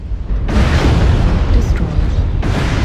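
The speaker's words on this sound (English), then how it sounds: "Weapon explosion detected. Ammo explosion detected." A mech's weapon and ammunition explode in MechWarrior 5 with deep, loud booming blasts, a sustained rumbling roar after a burst at the start and a second heavy explosion near the end.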